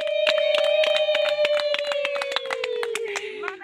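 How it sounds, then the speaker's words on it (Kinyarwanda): Congregation clapping in steady rhythmic unison at a church service, a sustained sung or spoken tone running beneath the claps throughout. "ngo ni muyikomera amashyi twumve ko muhari"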